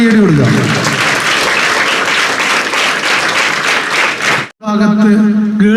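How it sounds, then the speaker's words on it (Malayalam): An audience at a training program launch breaks into loud, sustained applause for about four seconds, then it cuts off and a voice speaks over a microphone. "നല്ലൊരു കൈയടി കൊടുക്കുക"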